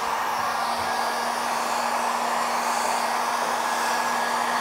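A heat gun blows steadily on interior wrap film over a small round table top, a continuous even whoosh with a faint constant tone, close and alone throughout.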